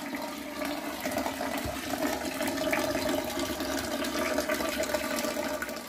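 Sugar mash drains from a drain tap in a steady liquid gush, a continuous mid-level splashing pour that runs evenly throughout with no talking.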